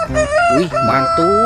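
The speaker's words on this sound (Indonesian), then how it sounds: "Ada ayam berkokok." A rooster crows loudly in a children's toy-reveal game, a long wavering cock-a-doodle-doo with rising and falling tones, with a voice speaking over it at the end.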